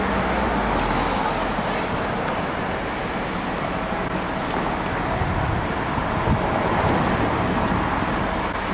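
Steady street traffic at a bus stop on Van Stralenstraat, with a Eurolines coach across the road among passing cars, a continuous broad roadway rumble throughout.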